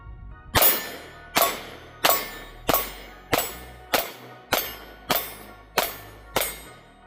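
A pistol fires Ammo Incorporated Bodyguard 2.0 hollow point rounds at a range: nine loud, sharp shots at a steady pace about two-thirds of a second apart, each with a short ringing decay and no talking.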